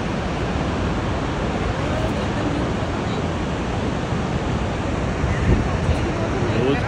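Niagara Falls roars as a continuous, dense rush of water, broad and steady like heavy surf, with a faint hint of voices beneath it.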